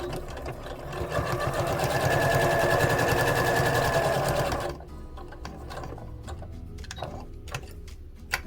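A sewing machine runs steadily and close while stitching and back-stitching shapes onto an activity quilt, with a rapid ticking whir for several seconds. It then stops, leaving faint clicks and handling noises.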